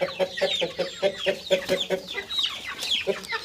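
Roosters and hens on a fowl farm cluck in a quick, repeating chatter, with several birds close by and an occasional louder call.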